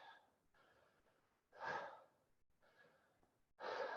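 Two deep, audible breaths taken during a yoga exercise, each a slow, soft inhale swelling into a louder airy exhale, heard alone and close in a quiet room.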